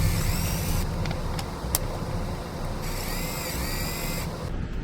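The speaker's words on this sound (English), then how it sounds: "Just that little tiny bit with the reamer." A reamer run by a power tool enlarges the bolt holes in a trim actuator. It makes a continuous high whine and grinding buzz that keeps going through the whole clip, with a brief change in pitch partway through.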